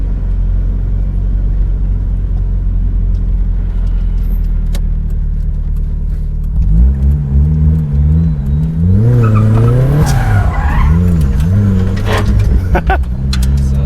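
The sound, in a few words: turbo Mazda MX5 Miata skidding through a quick U-turn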